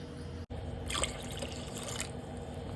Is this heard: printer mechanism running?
no